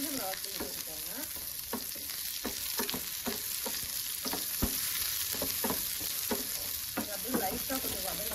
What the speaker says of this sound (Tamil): அப்படியே லைட்டாக கொஞ்சம் வதங்கணும்